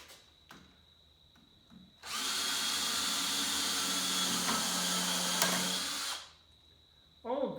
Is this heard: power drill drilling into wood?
yes